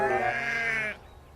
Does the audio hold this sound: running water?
no